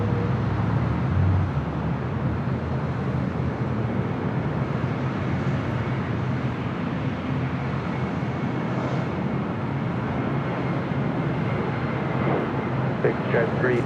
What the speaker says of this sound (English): Swiss Flight 40 coming in from Zurich, 777-300 ER.